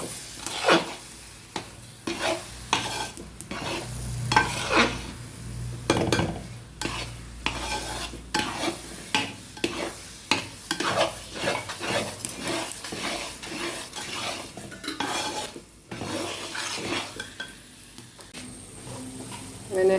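A spoon scrapes and stirs thick jackfruit halwa with cardamom powder and dry ginger in a pan, with steady rhythmic strokes and soft sizzling underneath, close and continuous.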